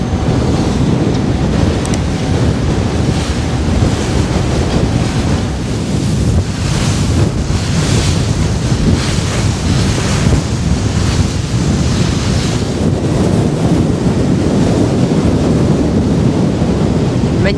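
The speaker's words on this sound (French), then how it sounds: "Je vous cache pas que le vent est fort, j'ai du mal à avancer." Strong wind roars across the microphone while waves slap and surge around a boat among icebergs near the Upsala glacier, a loud, continuous rushing with gusting swells and no clear speech.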